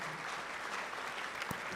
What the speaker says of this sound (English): Clap for her nicely.